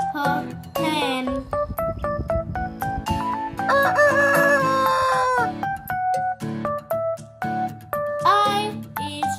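Chickens and a rooster sound together, with repeated crowing and clucking calls over a tinkling musical backing. The sequence is loud and busy, and the calls rise and fall across several bursts.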